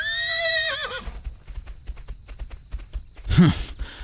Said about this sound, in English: Goliath is the fastest horse this side of the river